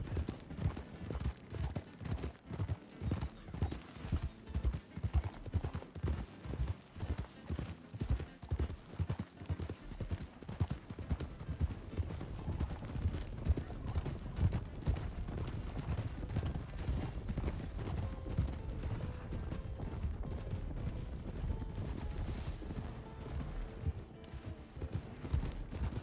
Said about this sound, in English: I love it when multiple horses ride together. They have this rumbly group